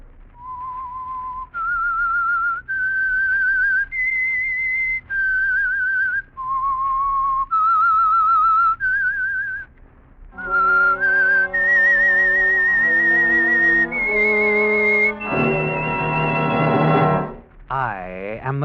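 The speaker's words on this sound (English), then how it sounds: "That whistle is your signal for the Signal Oil program" A lone whistler performs the eerie theme of The Whistler mystery radio show, a series of sustained rising and falling notes, then joined by a rich orchestral swell that surges loudly before ending with a wavering flourish.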